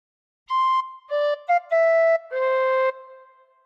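A phrase of Pop Goes the Weasel played on a tin whistle: five clear, bright notes in a bouncy rhythm, including a quick short note, ending on a longer held tone, played alone and close.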